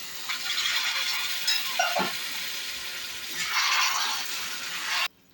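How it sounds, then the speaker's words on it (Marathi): Water is poured into chicken steaming in oil in a covered pot, giving a steady broad hiss and sizzle that swells again near the end before cutting off abruptly. "त्याच्यातच हे पाणी घालते."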